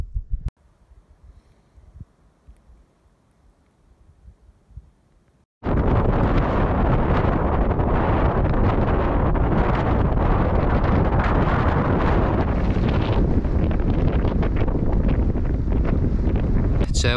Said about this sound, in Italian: C'è un vento della Madonna